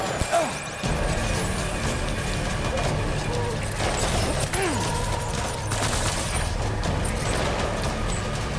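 Gunfire in a World War 2 battle in the Death Stranding video game: a near-continuous fusillade of rifle and machine-gun shots with crashing impacts, loud and close, sustained for several seconds after a brief pause at the start.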